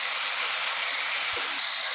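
Vegetables frying with sambar masala in a pan for idli sambar, a continuous broadband sizzling hiss held steady throughout at close range.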